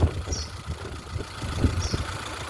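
A 2009 Hyundai Santro Xing GLS running on LPG idles smoothly nearby, a steady low engine rumble with soft, even pulses.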